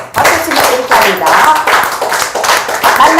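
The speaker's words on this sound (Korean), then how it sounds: "박수 한번 쳐보세요" A group clapping hands together in rhythmic bursts during a seminar, loud and close, with voices mixed in among the claps.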